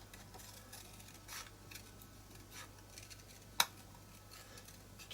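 A single sharp scissor snip cuts card while trimming round the outside of a magazine box kit piece, a brief crisp click standing alone against quiet room hiss.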